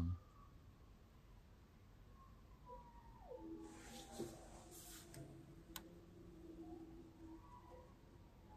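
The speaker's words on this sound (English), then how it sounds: "Dang, the sirens are back." Many sirens wail faintly in the distance, thin rising and falling tones overlapping across several seconds against a quiet background hum.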